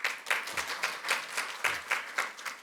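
At a social economy forum launch, the audience claps to welcome arriving lawmakers. The applause is dense and steady and rises and falls in short swells, with no voices over it.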